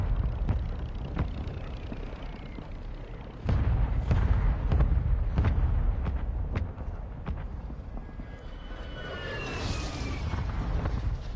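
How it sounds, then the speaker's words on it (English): Mortar strike explosions in the online shooter Fortnite arrive as a series of deep booms and thuds in quick succession, rumbling in the low end over constant game ambience. A whistling streak is heard near the end. "Mortar strike inbound now."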